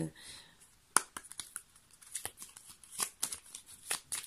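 Tarot cards are shuffled by hand in soft, quick riffling bursts and flicks, close and fairly quiet, with the crisp slaps growing denser toward the end.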